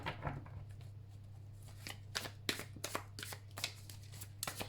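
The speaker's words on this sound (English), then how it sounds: "let's shuffle your cards" Tarot cards from a Light Seers deck being shuffled in a quiet room, a series of crisp riffling bursts with short pauses, close and fairly soft over a steady low hum.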